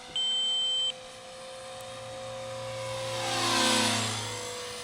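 A Blade 300 CFX RC helicopter flies, its rotor and motor whine rising and falling, swelling louder as it passes closer, after a short steady electronic beep at the start.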